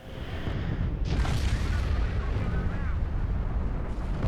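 Bomber squadrons in the RUSE video game drop bombs on an enemy base, a loud, dense rumble of overlapping explosions and booms that continues throughout, with a voice faintly mixed in.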